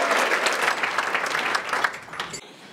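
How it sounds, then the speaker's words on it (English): Applause for a group of kindergartners at a community event, a dense wash of clapping that holds steady and then tapers off toward the end. "Can we give a round of applause for the Encompass kindergartners?"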